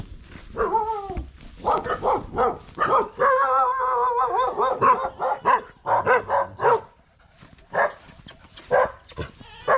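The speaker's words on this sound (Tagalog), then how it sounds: "Ayan, may mga aso." Several dogs bark in short, irregular bursts at close to moderate distance, with some yelping and howl-like calls mixed in.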